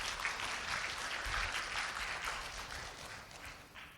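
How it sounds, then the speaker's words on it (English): Conference audience applauding a doctor after a talk on the future of medicine, a sustained, even round of clapping from a large room, slightly distant, with no speech over it. "let's give her a big round of applause"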